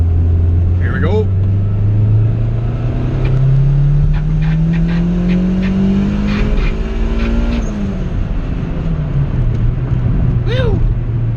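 A turbocharged Honda B18C1 GSR engine in an EG hatchback revs on a dyno, pitch climbing steadily through a long pull before dropping back, loud and close with a constant roar and a brief voice near the end.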